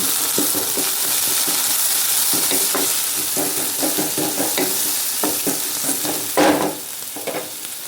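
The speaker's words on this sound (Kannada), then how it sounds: "ಒಂದು ಈರುಳ್ಳಿ ಕಟ್ ಮಾಡಿದ್ದುಂಟಲ್ಲ ಅದನ್ನು ಹಾಕುವ. ಇದನ್ನು ಸ್ವಲ್ಪ ಫ್ರೈ ಮಾಡುವ" Chopped onion frying in a pan, a steady close sizzle with repeated scraping stirs of a spatula throughout, one louder clatter near the end.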